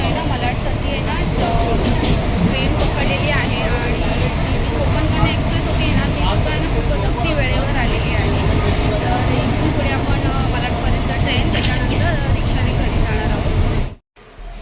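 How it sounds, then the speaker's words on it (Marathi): A loud, steady rumble of a local train at the Dadar station platform, with constant mechanical noise and crowd sounds throughout, cutting off abruptly near the end. "तर ट्रेन आलेली आहे प्लॅटफॉर्मला फायनली आहे ना दादर स्टेशन"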